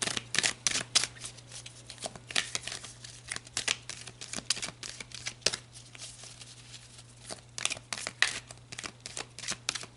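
Tarot cards being shuffled and handled, giving a quick run of crisp riffling and flicking bursts at close range over a steady low hum, with no talking.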